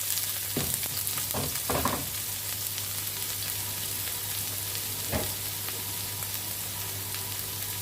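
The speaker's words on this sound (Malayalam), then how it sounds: "കടുക് ഇട്ട് കൊടുത്തിട്ടുണ്ട് കടുക് പൊട്ടി തുടങ്ങി" Mustard seeds spluttering and popping in hot oil, a steady crackle with a few sharper bursts near the start, close and fairly quiet.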